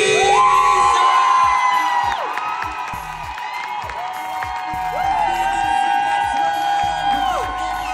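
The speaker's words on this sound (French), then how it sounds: "Je compte jusqu'à 3 et on crie 1, 2, 3, Elvis!" A crowd at a drag show shouts and whoops loudly together, with high excited voices and cheering overlapping in a dense, sustained roar that rises and falls.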